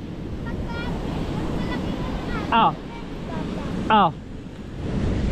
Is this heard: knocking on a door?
no